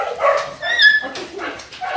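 Puppies whimper and yip in short, high, whiny bursts, close by, with brief pauses between the cries.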